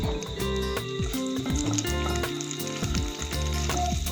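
Cashew nuts and raisins sizzle and fry in hot ghee in a pan, a steady, loud crackling bubble with occasional tossing clinks, running continuously without any talk.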